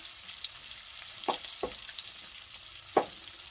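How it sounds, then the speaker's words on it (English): Bacon fries in a pan for shrimp and grits, giving a soft continuous sizzle broken by a few sharp scraping clatters as it is stirred around, with no voices. "My bacon is cooking."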